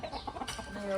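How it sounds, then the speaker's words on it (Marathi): A rooster gives a short, close clucking call, brief and moderately loud against a quiet background. "कोंबडा."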